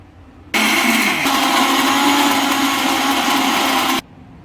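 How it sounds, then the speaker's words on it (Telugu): A kitchen mixer grinder whirs loudly for about three and a half seconds, grinding urad dal in its jar. The motor kicks in abruptly, shifts pitch slightly early on, then cuts off sharply. "మినపప్పు వేసుకోవాలి, మిక్సీ జార్లో మెత్తగా రుబ్బుకోవాలి."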